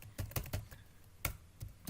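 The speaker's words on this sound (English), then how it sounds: "You should be getting pretty good at typing that now." Java code being typed on a computer keyboard, a quiet run of sharp key clicks in irregular bursts with short pauses between them, close and alone.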